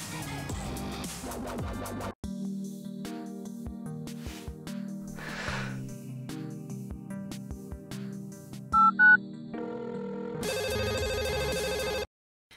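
An incoming call from a boyfriend sounds as a ringing phone tone in short bursts that cut through loud music in a busy party street.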